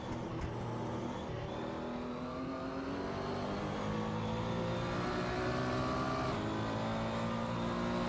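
Porsche 911 GT1 race car in the Assetto Corsa video game, lapping Silverstone: a steady, loud engine drone that rises gradually in pitch under acceleration, continuous and close, with no talk.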